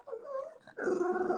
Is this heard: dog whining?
yes